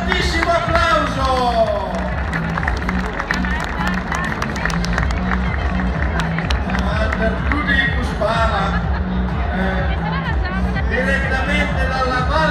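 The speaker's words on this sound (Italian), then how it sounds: "Accogliamoli con un fortissimo applauso" An audience at a folk dance event in Lunano gives loud sustained applause, with crowd chatter and cheering mixed into the steady clapping while music plays underneath.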